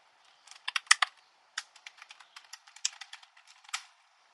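Keys clatter on a computer keyboard in quick, uneven bursts of light clicks with short pauses between them, close by and fairly quiet, with no one talking.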